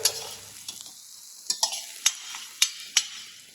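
Turmeric being fried and stirred in hot oil for a brinjal curry: a steady sizzle broken by a handful of sharp scraping strokes of a spoon against the pan, with no talking.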